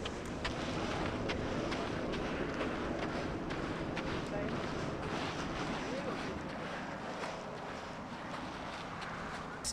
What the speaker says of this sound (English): Now we've got quite a strong wind